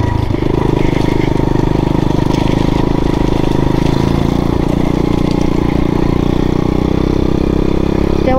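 A motorcycle engine runs loud and close, a steady unbroken drone, while its rider heads to a national motocross race in Moreni.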